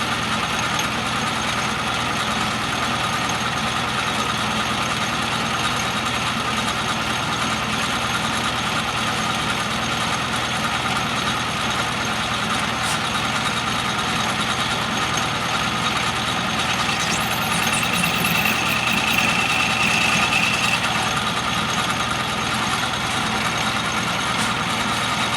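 Atlas metal lathe turning under power feed, cutting at a 45-degree angle with both feeds engaged, a steady mechanical hum and drone with faint ratcheting texture, continuous and close, no talking.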